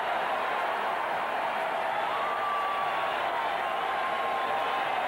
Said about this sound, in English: And the Raiders fans cheer the defense.